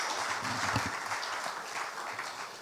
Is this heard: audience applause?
yes